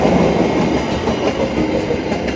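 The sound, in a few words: Indonesian train passing by rice fields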